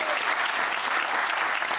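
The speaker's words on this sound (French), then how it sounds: "Applaudissements pour lui." A burst of steady studio audience applause, loud and sustained, with no voices above the clapping.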